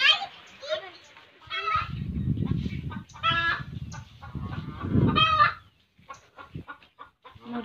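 Chickens still shut in their coop at a rural home in the morning call loudly, with repeated squawks and cackles in bursts and some honking calls mixed in, fairly close.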